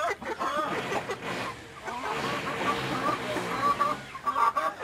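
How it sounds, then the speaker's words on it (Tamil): A hen clucks in a rooftop backyard poultry setup just before laying an egg, with repeated low, throaty calls that are close and moderately loud, with brief talk nearby. "இப்ப பாருங்க கொரக்குன்னு கேவுது கோழி"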